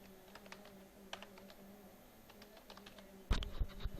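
Faint, scattered keystrokes tap on a keyboard over a low electrical hum, followed by a louder clattering burst near the end.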